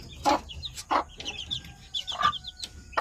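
Backyard pet chickens cluck in short, close bursts, several separate calls spaced through a few seconds against a quiet outdoor background.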